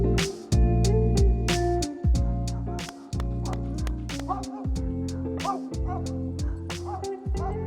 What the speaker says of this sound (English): Dogs are gonna bark at each other, obviously